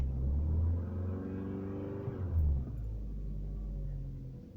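A 2016 Opel Astra J idles, then its engine revs up and settles back to a steady idle, a close, continuous low rumble with a brief rise in pitch.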